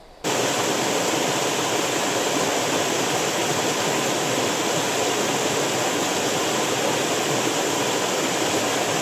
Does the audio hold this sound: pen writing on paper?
no